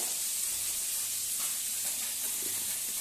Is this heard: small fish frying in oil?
yes